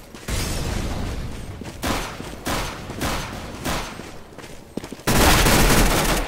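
CS:GO gunfire in bursts of loud, close rifle shots, several rapid volleys separated by short gaps and ending in a dense sustained burst.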